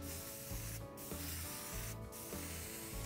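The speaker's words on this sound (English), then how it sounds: "we tacked it back down with some spray glue" Spray adhesive from a can being sprayed onto a delaminated pool table rail cushion, two short hissing bursts about a second apart, close and clear over a low background rumble.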